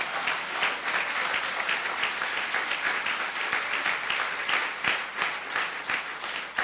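A church congregation gives steady, sustained applause, a dense even patter of many hands clapping at moderate volume throughout.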